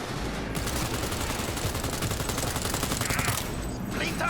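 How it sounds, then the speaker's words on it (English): Gunfire from shooting at enemies in Cyberpunk 2077, a dense, continuous fusillade of rapid shots and crackling bursts at steady loudness throughout, with no talking. "when I shoot at the enemies"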